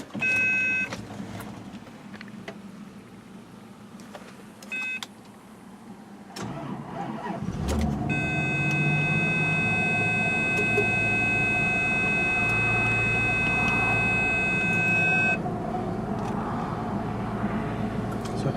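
A 1996 Bentley Continental R with a weak battery cranks briefly, pauses, then catches and settles into a steady idle under a warning chime, the engine running close and even to the end.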